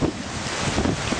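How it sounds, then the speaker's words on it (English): Wind gusting outdoors during obstacle training with a horse, a steady rough broadband rush buffeting the microphone throughout, with no talking. "Windy as it is"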